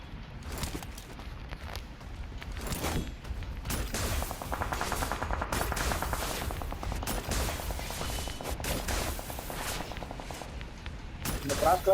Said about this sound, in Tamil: அந்த கன் ரீலோட் பண்ணு, அந்த மிஷின் கன் ரீலோட் பண்ணு